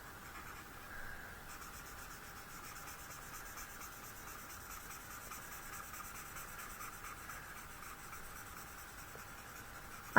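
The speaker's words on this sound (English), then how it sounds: "I can tell that this pen is getting low because you can hear it on the surface of the paper or the card." A pen running low on ink scrapes steadily across cardstock while a stamped birthday card is being made, giving a soft, continuous, close scratching that runs the whole time with no talk.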